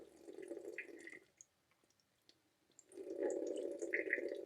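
Two short splashes of water poured from a tablespoon onto sugar for a Nussecken nut topping, each a soft trickling patter lasting about a second, close and fairly quiet with a pause between and no talk.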